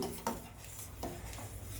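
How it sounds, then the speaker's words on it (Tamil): A spoon scrapes and stirs boiling milk thickened with cornflour in a pan for eggless pistachio ice cream, giving a few close, quiet scraping strokes with no talk. "கை விடாமல் நல்லா கிளறணும்."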